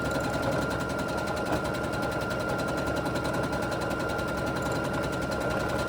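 A sewing machine stitches free-motion quilting on fabric, running in a steady, fast, continuous rattle of needle strokes with a mechanical hum, close and unbroken, with no talking.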